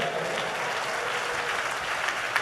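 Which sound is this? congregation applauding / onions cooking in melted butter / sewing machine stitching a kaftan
congregation applauding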